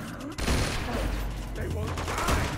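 Rapid gunfire aimed at guardians in a video game rattles in a dense burst that carries almost continuously, with a voice shouting over the shooting.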